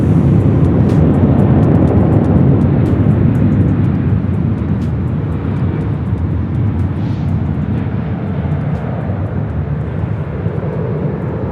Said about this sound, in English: this next arrival is Philippine Airlines Flight 112 coming in from Manila